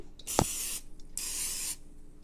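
Two short bursts of cooking spray hissing from an aerosol can, close up, with a brief click before the first burst.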